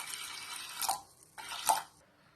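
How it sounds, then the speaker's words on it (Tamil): Water is poured into a pressure cooker holding soaked chickpeas and salt, in two short splashing bursts with a pause between, close and fairly quiet, no talking. "கூட கொஞ்சம் தண்ணி ஊத்திக்கோங்க."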